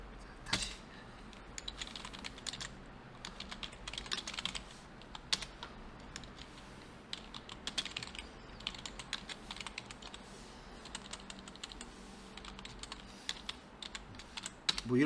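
Rapid typing on a computer keyboard while coding HTML in an editor makes a quiet, continuous clatter of key presses that speeds up and slows down in bursts, heard alone without voices.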